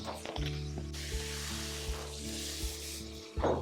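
Water poured into a pan of browning chicken for a garlic-heavy spicy braised chicken stew, a steady hissing sizzle over a low humming tone with faint clicks, with no talking.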